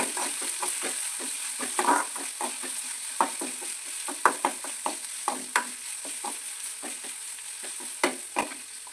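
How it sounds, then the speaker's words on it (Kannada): Onions frying in a pan for a simple beans palya, with a steady sizzle broken by repeated scraping stir strokes from a spoon, close and fairly loud, no talking. "ಅರ್ಧದಷ್ಟು ಈರುಳ್ಳಿ ತಗೊಂಡು ಅವಾಗ ನೀಟಾಗಿ ಫ್ರೈ ಮಾಡ್ಕೊಳ್ತೀನಿ"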